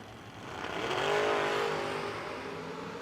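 Drag race cars, a black Camaro and the Mr. Exciter Camaro, at a drag strip event, engines roaring as they launch and swell to a loud peak in the middle before easing slightly, with no talk.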